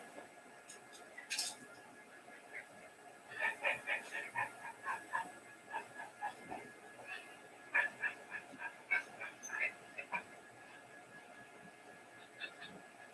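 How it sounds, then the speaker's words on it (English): Several small dogs bark in short, sharp yips with whimpers between them, loud and close, with faint clinking in the background. "So these are all the smaller dogs."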